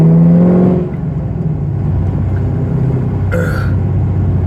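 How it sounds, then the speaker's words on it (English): A Chevrolet Camaro's exhaust gives a steady, loud low rumble close by, with a brief throaty burst near the start and no talking. "If my exhaust doesn't get me pulled over,"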